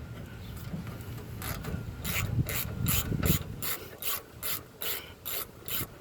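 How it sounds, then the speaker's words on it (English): A ratchet works on Ford F-150 rear brake caliper bolts, first with a rougher grinding turn, then a run of crisp, evenly spaced clicking bursts, close and clear with no talk. "give it some good taps on your ratchet, and it should loosen out"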